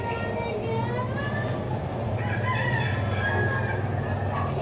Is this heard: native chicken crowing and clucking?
yes